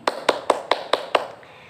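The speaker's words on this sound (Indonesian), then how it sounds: "tepuk tangan buat Agni" Six sharp claps at an even pace, close and fairly loud, sound in a classroom, then fade into quiet room tone.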